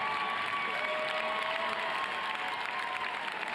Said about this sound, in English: crowds really trying to cheer Imogen Simmons home here